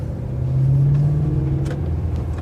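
A warm BMW E92 M3 pulls away, its engine giving a steady low rumble that rises slightly as it drives off, close and continuous with no talk over it.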